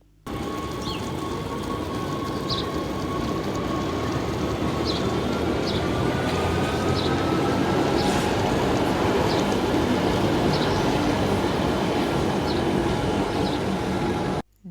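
A mountain train idles at Wengen station in Switzerland with a constant rumbling hum and a faint high whine, occasional light metallic clicks and ticks over the steady drone.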